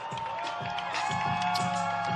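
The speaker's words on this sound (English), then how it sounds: "Guys, another big round of applause." Crowd applause and cheering at a media workout for a Jake Paul vs. Anderson Silva boxing event, a steady wash of clapping and cheers that swells slightly louder midway and holds throughout.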